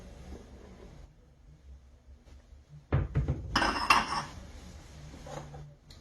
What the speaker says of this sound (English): We'll add our flour.